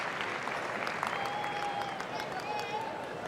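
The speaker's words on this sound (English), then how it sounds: "This sellout crowd letting it all soak in, and at times hoping their voice is heard to the one they like" A sellout crowd at the 2018 Westminster Dog Show Best in Show ceremony applauds in a steady, dense wash of clapping, with a commentator talking over it.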